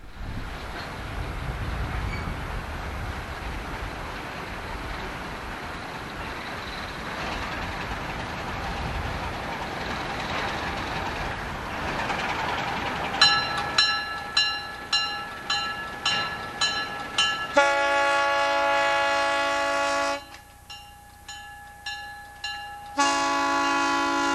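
A train rumbles past, followed by rhythmic clacking, then loud sustained horn blasts, one cutting off abruptly before a final short toot.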